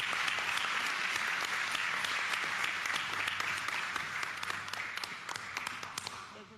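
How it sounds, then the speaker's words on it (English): Audience applause at a board of education meeting, a dense, steady wash of clapping from a crowd in a hall that holds for several seconds and then tapers off slightly. "May we give them another round of applause."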